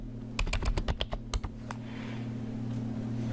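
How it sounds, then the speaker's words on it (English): Typing on a computer keyboard while searching a membership database by name: a quick burst of about a dozen close, distinct key clicks, then a pause over steady low hum with no talking. "So if I want to search for Michael Reed, I type in the last name Reed, first name Michael,"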